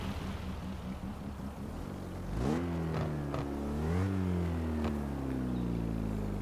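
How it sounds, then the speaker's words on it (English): A Mazda RX-3 with a two-rotor engine in Forza Horizon 4 rumbles low and stuttery at idle, then revs up in a couple of rising pulls, alone and close. "just listen to that low rumble"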